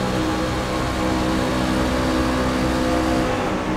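Racing trucks at Talladega produce a loud, unbroken engine roar with a sustained droning pitch, close and powerful for the whole stretch; no talking.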